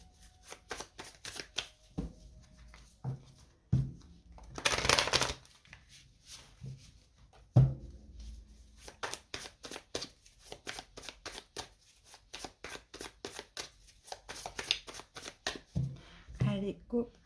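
Light Seers Tarot cards being shuffled in repeated rapid riffling bursts, close and fairly quiet, with a few louder handling thumps and brief French talk mixed in.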